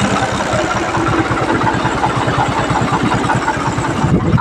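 A farm tractor heading out to sow wheat runs at low revs, its engine thudding in a close, steady, even rhythm for a few seconds without talk.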